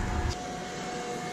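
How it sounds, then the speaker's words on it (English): A vacuum cleaner runs steadily inside a Mercedes Sprinter van during a window installation, giving a continuous whirring drone with a steady tonal hum, close by and with no talking. "Sorry for that vacuum noise"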